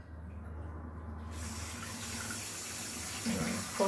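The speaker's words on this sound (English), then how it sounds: "Let me just get some more water in there." Tap water runs into a basin, beginning as a quiet trickle and quickly becoming a steady close splashing flow, then shifting slightly as the stream fills the sink.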